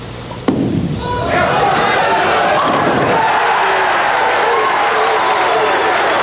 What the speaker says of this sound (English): If he does something that pleases the crowd, you'll hear them chanting "Scoot."